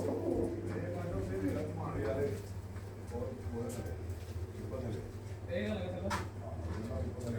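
Pigeons coo softly from their coops, a low repeated murmur carried under steady talk from nearby men.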